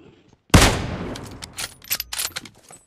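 A single loud sniper rifle shot cracks in a battle royale game, a sharp close blast with a long echoing tail, followed by scattered fainter distant shots.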